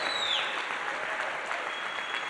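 Audience at an Ignite Seattle talk event applauding and cheering, a dense steady wash of clapping with a brief whoop near the start, loud and continuous throughout.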